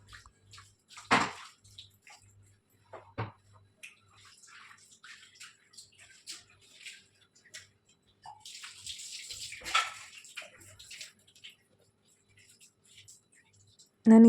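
Water is poured and splashed over a surface being washed clean in a home kitchen, in intermittent gushes and drips with quiet pauses between them.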